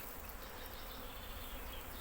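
Honeybees hum around their hives on a mild spring day of about 19 degrees as foragers bring in nectar from spring flowers, a dense, even buzzing close by with no talk.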